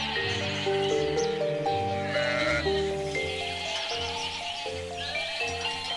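Several sheep bleat loudly and continuously, overlapping calls of varying pitch rising and falling close by, with no talk over them.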